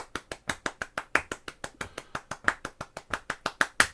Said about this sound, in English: So I want you to just practice clapping semiquavers